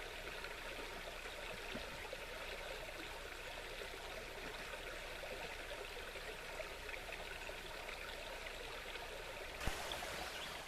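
Red House Brook, a small trout brook, flows with a steady, soft, continuous trickle and babble throughout, gentle and unbroken, with no voices.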